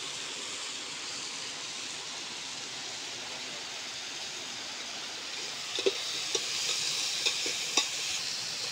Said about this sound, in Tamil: மாஸ்டர் நல்லா கிண்டுறாரு.